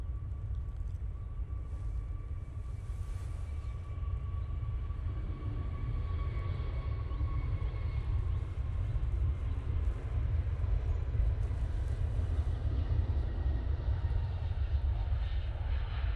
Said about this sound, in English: Jet2 now departing.